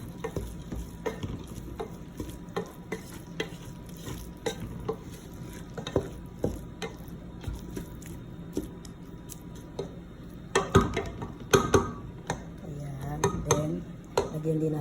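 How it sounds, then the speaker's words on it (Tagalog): Cooked rice is stirred with oil in a pan, a spoon scraping and tapping in an irregular rhythm with faint frying underneath. The stirring grows louder and busier toward the end. "Lagay natin yung kalahati. Ayan, haluin natin."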